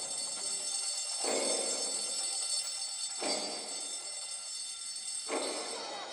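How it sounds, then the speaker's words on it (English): A fire alarm inside a video game rings in three repeated swelling blasts at a steady pace, moderately loud over a constant droning background. "Fire alarm!"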